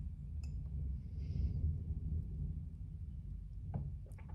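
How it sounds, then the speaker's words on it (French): Thunder from a storm rumbles low and continuously, rolling at a distance and filling the space with a deep, steady growl. "Je ne sais pas si vous venez d'entendre là, mais l'orage gronde, mais hyper fort juste au moment où je vous dis ça."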